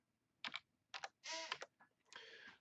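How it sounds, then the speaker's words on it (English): Short bursts of key clicks on a computer keyboard as a password is typed, separated by brief pauses, crisp and close in an otherwise quiet room. "select the Files tab, and type in your password"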